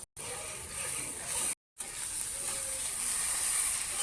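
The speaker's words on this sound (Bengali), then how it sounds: "আমি এখন লাউয়ের চোষা বাটাটা দিয়ে দেবো" Bottle gourd peel paste fries in hot oil with a steady, soft hissing sizzle, cut twice by short silent gaps.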